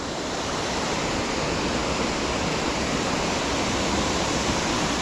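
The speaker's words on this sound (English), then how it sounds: "That waterfall's good today." Wharnley Burn waterfall pours across rocks in a loud, steady, unbroken rush of water close by.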